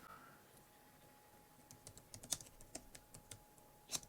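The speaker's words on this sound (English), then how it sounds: "Just typing" Fingers type on a computer keyboard, entering data statements into a magazine type-in program for a vintage home computer; scattered key clicks build into a quicker run of taps midway, with a sharp louder keystroke near the end, close and alone.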